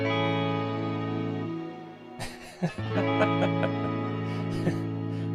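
Guitar tone run through a pedal that pitch-shifts a fifth above the played notes and feeds a shimmer-style reverb, heard as sustained layered harmonic chords with a fresh strum midway and a washy, close, steady tail.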